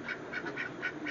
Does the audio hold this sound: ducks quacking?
yes